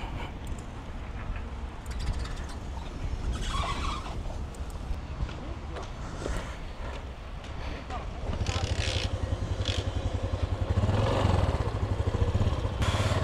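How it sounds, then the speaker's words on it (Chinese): A motorcycle ridden past seaside villages and salt fields at the southernmost tip of mainland China gives a steady engine drone mixed with wind rush, growing louder toward the end. "我想去骑骑摩托车"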